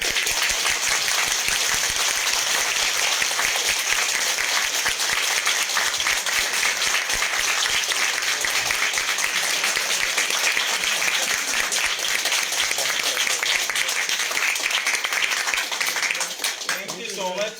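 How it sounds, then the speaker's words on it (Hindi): An audience at a talk on freelancing claps lightly in a steady patter of many hands that continues at an even level, thinning out only in the final second or two. "आप लेट से ताली बजा दो हल्की सी थोड़ी सी"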